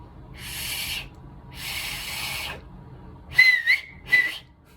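Loud finger whistling, beginning with two breathy, airy blows that fail to catch, then several sharp, shrill whistles with a rising and falling pitch, close and alone.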